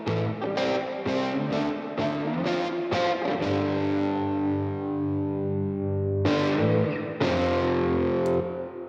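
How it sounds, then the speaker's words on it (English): Music with strong, processed tones where notes ring out and linger in a lush, spacious plate reverb tail placed mostly on the left, especially during the sustained section before the chords return. "So I put the epic plate reverb mostly on the left."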